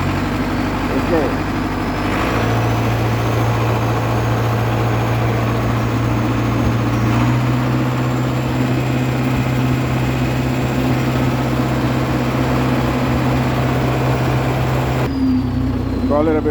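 An International Harvester TD8E bulldozer engine runs at a steady idle, a loud continuous diesel drone with a constant low hum throughout, shifting slightly near the end.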